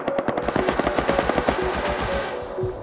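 Rapid automatic gunfire from the Rust video game, a dense run of close, loud shots fired in quick succession that thins out toward the end.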